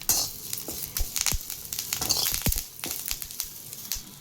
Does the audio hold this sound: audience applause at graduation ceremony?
no